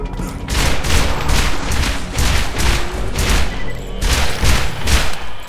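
Burst-fire gunshots in a Borderlands video game, loud close volleys of rapid shots that repeat in clusters and keep a dense, booming rhythm throughout.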